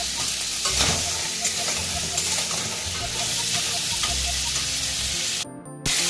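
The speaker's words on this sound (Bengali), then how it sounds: "কাঁকড়াটা আমি অল্প সময় ভেজে তুলে নেব।" Crab frying in a pan, seasoned with salt and turmeric, sizzles steadily with stirring scrapes and a few clatters, loud and close, briefly dropping out near the end.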